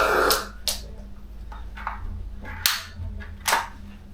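Repeated sharp gunshots from a gun firing at a target, several distinct reports spaced unevenly over a few seconds, fairly close, with quiet hiss between shots.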